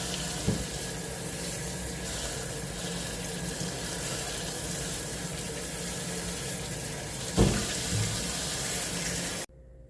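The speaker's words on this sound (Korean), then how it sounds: "이렇게 깔끔하게 잘 씻어서" Wild fatsia shoots (dureup) being rinsed under running water in a sink, a steady close splashing and trickling flow throughout with a couple of brief knocks, ending abruptly.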